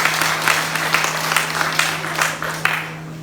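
A church congregation applauds at a parish feast day for Saint Mary Magdalene on La Gonâve, Haiti, a steady patter of many hands clapping throughout over a constant low hum, easing off near the end.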